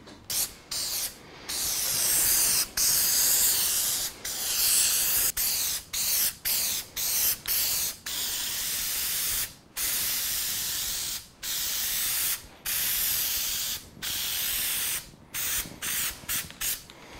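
Spray adhesive hisses onto a Chevy Silverado crew cab truck headliner in a long series of close, loud bursts, some sustained and others brief, separated by short pauses, with no talking.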